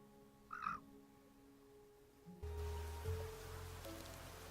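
Rain falls in the Niche video game as a steady hiss that starts suddenly partway through, over soft game music and after an earlier brief animal call.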